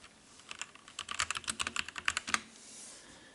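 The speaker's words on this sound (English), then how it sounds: "you can see the real typing of the actual world." Rapid keystrokes on a MOTOSPEED K87S RGB mechanical keyboard, a quick irregular run of crisp clicks that bunches into a dense burst, then stops and leaves near-silence.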